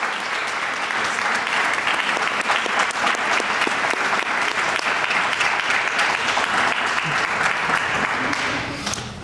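Sustained applause from a graduation ceremony audience at a first-generation cording event, dense steady clapping filling the room throughout with no talk, tapering slightly at the very end.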